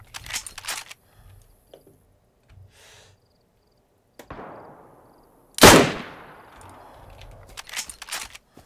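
A Mosin rifle shot rings out in DayZ, a single sharp loud crack with a long echoing tail, preceded by faint clicks and handling noises and followed by soft movement sounds.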